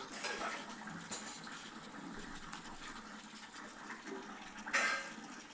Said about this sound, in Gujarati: અત્યારે ભાઈ નળ આવી ગયા છે એ પણ તમને દેખાડી દઉં